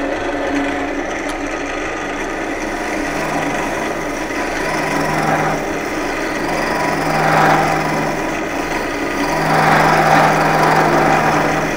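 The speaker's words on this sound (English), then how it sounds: "Just gonna use my hollowing tool here." A hollowing tool cuts into a turning wood blank on a lathe, producing a steady rough scraping and rasping drone with a few swells in intensity, continuous and close, with no voices.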